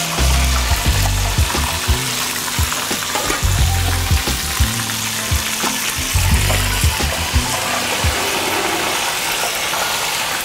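Fish frying in hot oil, a loud, close, continuous sizzle with frequent crackles and pops, heard alone throughout.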